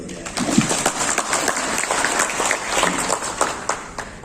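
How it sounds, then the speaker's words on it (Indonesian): Audience at an Indonesian small-business training seminar in Gorontalo breaks into a short burst of clapping, a dense patter of hands that rises and falls for a few seconds in a room. "Tepuk tangan dulu ya."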